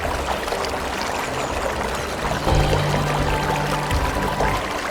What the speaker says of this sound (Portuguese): A água cai em cascata por 7 camadas de calcário, criando piscinas naturais cristalinas